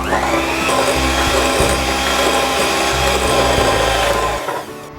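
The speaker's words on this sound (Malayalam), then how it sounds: "മുട്ട പതച്ചുകൊണ്ടിരിക്കുകയാണ് ഞാൻ." An electric mixer beats eggs for lava cake batter, a loud close motor whir with a rattling, grinding clatter that holds steady for several seconds, then drops off at the end.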